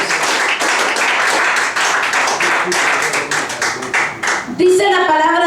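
A church congregation claps together for several seconds, loud and close, in dense uneven bursts. A voice comes in near the end.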